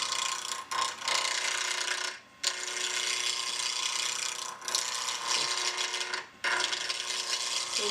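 A wood lathe spins a compact key ring knife blank at about 1800 rpm, giving a steady, loud rasping whir as the tool slides across to knock off the corners, with brief pauses between passes.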